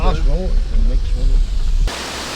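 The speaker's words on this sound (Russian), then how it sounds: "Вода. Это родник." Water from a mountain spring gives a steady, close hiss that takes over near the end, after people talk over wind-buffeted ground noise.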